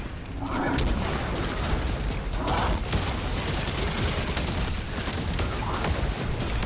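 Steady gunfire from a Destiny 2 firefight against enemies, with dense rapid bursts and booms that carry on throughout, and faint voices underneath.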